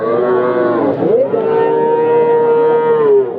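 Cattle at a livestock market low loudly and close by, one long drawn-out moo dipping briefly before swelling into a sustained bellow, heard alone without talk.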